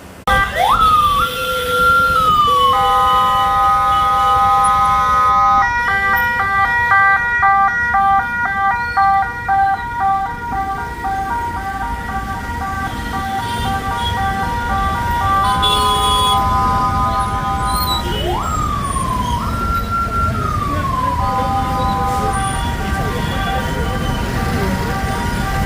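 Ambulance siren wailing through congested traffic at a U-turn, a loud, steady, cycling electronic tone that rises and falls repeatedly, switching between a slow wail and a rapid yelp pattern over constant road rumble.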